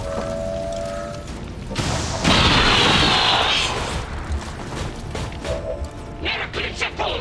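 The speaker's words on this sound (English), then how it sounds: "fire the rocket launcher." A rocket launcher fires in a video game and its round explodes in a loud, rushing blast with a rumbling tail, amid thuds and other game sounds, with faint voices underneath.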